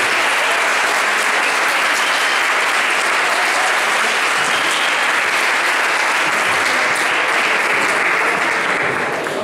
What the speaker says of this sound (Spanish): Le damos otro fuerte aplauso porque a ella le tuvo que romper el hielo.